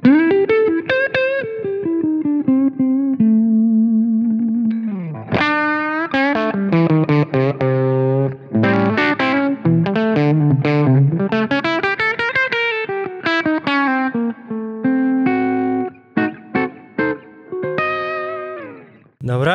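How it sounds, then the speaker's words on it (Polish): Electric guitar played through a Taurus SH8 Qube amplifier with tube boost engaged, a sustained overdriven lead melody with bends and fast runs, loud and continuous. "Dobra, i teraz Tube Boost, podbicie lampowe."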